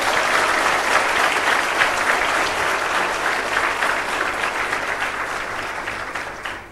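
Sustained applause from a large audience at a university commencement ceremony, dense steady clapping throughout that slowly thins toward the end.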